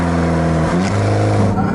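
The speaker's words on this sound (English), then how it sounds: "Nice downshift on the auto" A 2015 Alfa Romeo 4C with its automatic gearbox downshifts, the engine note stepping through quick pitch changes and a brief blip of revs, heard loud from inside the car.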